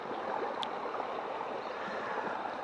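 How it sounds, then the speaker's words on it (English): Rock Creek flows out of Lake Needwood at its source, a soft, steady rush of moving water heard nearby and unbroken, with one brief faint click and no talking. "what you're looking at is Rock Creek, literally where it empties from, or where it originates from Lake Needwood"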